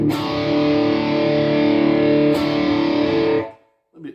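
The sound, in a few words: Boss Katana amp Marshall Guv'nor distortion guitar tone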